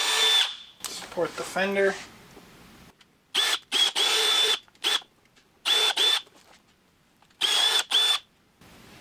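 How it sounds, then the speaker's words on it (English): Power drill boring 5/16 holes through a plastic fender on a 2023+ Speed UTV El Jefe during a fender extension install, several short whirring bursts separated by pauses, with someone speaking briefly early on. "Now with our pilot holes drilled, we'll switch to that 5/16."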